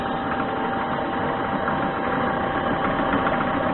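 A lathe runs at 500 RPM in a workshop, giving a steady, continuous mechanical hum and rumble at an even level throughout, with no talking.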